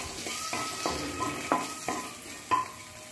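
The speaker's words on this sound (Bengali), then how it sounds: "ভালো করে ভেজে নিচ্ছি।" Cumin seeds, a bay leaf and two halved dried chillies fry in hot oil, giving a steady sizzle with a few sharp scraping stirs and utensil knocks spaced through the short stretch.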